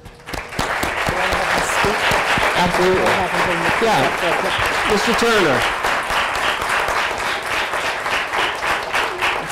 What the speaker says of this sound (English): I'd like everyone to give him a big round of applause.